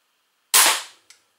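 A crossbow fires during a sound level measurement: one sharp, loud snap that decays over about half a second, then a brief faint click. No one speaks.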